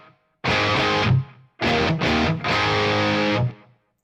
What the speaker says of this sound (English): Just a little bit of reverb and delay to sell that, the noise suppression